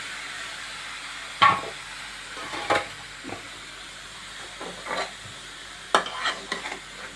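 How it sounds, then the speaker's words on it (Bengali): Bottle gourd frying in a pan, a soft steady sizzle broken by several sharp scraping stirs, spaced irregularly and heard close up. "লাউটা ছেড়ে দিয়ে ওটা আমি এই লাউ ছেড়ে দিচ্ছি, দিয়ে এটাকে আমি ভালো করে কষাতে থাকবো।"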